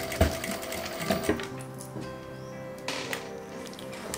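A sewing machine stitches a leather glasses case in a few short runs of mechanical clatter, separated by brief quiet gaps, close and moderately loud with no speech.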